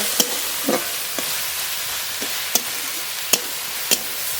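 Bele shak greens fry with salt and turmeric in a pan, a constant hissing sizzle punctuated by sharp, regular spatula taps and scrapes roughly every half second.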